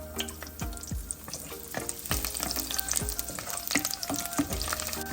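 About six long slices of garlic fry in hot oil in a pan for a Kerala-style coconut fish curry, a steady crackling sizzle broken by sharp clinks and scrapes of a spoon stirring, with no voices.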